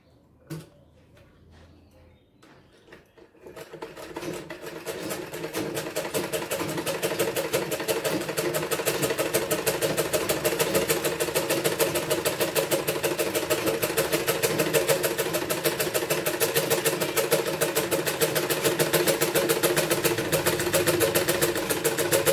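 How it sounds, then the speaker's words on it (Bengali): A sewing machine stitches the round side of a girl's half pant. It stays quiet for a few seconds, then starts a fast, steady, rhythmic whirring that runs close and even to the end. "এটা সেলাই হয়ে গেল এবং অপর সাইডটাও আমি এইভাবে সেলাই করে নিলাম"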